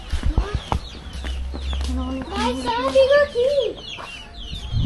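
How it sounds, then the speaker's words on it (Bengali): Chickens on a farm cluck and squawk in a close, busy series of calls, with some background noise and low rumble underneath. "এখানে দেখেন বেশ একটা মুরগি,"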